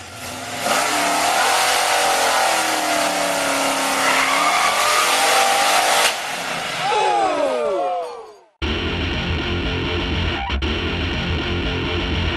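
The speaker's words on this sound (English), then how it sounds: "You feel the engine rev and the car doesn't accelerate. This is clutch slip." A modified car's engine revs hard while the clutch slips, a loud sustained roar with rising and falling pitch. Whooshing swept tones follow, then an abrupt cut to a different steady rumble.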